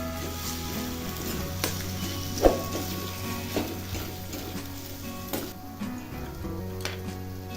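Stuffing for Marathi vangyache bharit (eggplant) sautés in a pan with a steady, close sizzle, broken by occasional clinks and scrapes of stirring.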